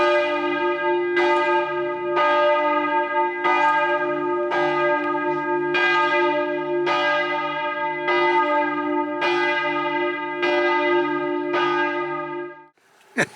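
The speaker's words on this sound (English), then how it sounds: "the bells are striking" Church bells ring out near a French seaside campsite, roughly nine loud, evenly spaced strikes about a second apart, each leaving a long resonant hum that carries into the next before fading at the end.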